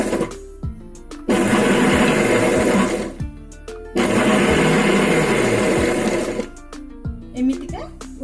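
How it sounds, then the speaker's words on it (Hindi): A kitchen mixer grinder whirs in two short bursts of a few seconds each as its jar pulverises cashews, loud and close, stopping between runs, with someone speaking in the pauses. "आमे आस्ते आस्ते गोटे गोटे सेकंड पई ग्राइंडर चलेबा"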